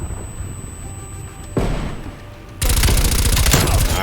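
Assault rifle fire in the Black Ops Cold War video game, a burst of automatic shots followed by sustained loud rapid gunfire.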